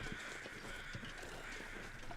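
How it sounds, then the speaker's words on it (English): Crows caw several times at a distance, over a faint outdoor background hiss, with a few harsh calls spaced across the moment. "A lot of birds."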